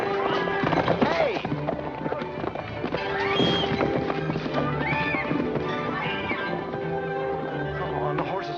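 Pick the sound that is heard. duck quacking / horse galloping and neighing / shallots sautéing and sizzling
horse galloping and neighing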